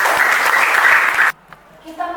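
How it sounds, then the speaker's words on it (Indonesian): Short burst of applause for Susi during a classroom lesson, dense clapping for about a second before cutting off, followed by quiet and a faint voice. "Tepuk tangan buat Susi."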